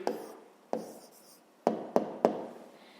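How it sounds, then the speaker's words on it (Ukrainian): Pen on paper writes down a math answer: short scratchy strokes, one at the start, another soon after, then three quick close taps in a row, all near and quiet, with no talking. "Записуємо відповідь."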